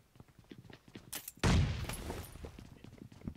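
AK rifle fire in a video game bursts out loudly and suddenly, then trails into a rattling, fading spray of shots amid faint game noise.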